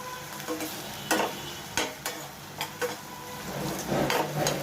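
Chicken keema with tomatoes and curry leaves cooks in a pan, with a low frying hiss under repeated scrapes and knocks of a spoon stirring, no voices.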